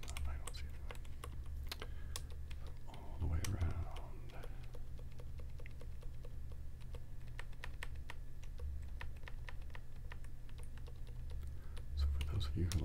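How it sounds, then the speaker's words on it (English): Quiet, steady tapping on a computer keyboard, rapid irregular clicks continuing throughout with a brief rustle partway through. "You who like hearing the keyboard tapping"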